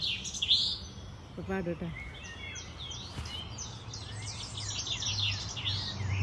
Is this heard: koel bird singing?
yes